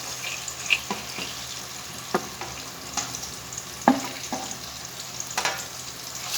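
Onions and tomatoes sautéing in oil for a meatball curry, a soft steady sizzle with scattered clicks and scrapes of stirring, fairly faint and close, with no talking.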